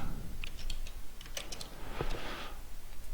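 Computer keyboard typing while writing Arduino code for a temperature and humidity project comes as a quick run of close, moderately loud key clicks over a steady background hiss, with no talking.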